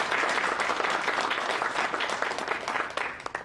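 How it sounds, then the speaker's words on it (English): Sustained, dense applause from an audience honoring political candidates at a Utah legislative district event, a full even wash of clapping that holds for several seconds before tapering slightly. "I would love it if we could have a round of applause for our candidates."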